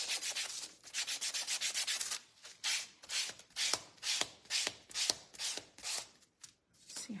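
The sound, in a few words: hand sanding a wooden craft piece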